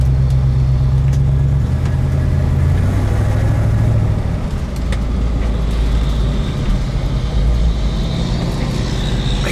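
A 1966 Ford Mustang drives along with a steady mid-pitched engine drone, its low tone shifting as it downshifts, close and fairly loud with no talking.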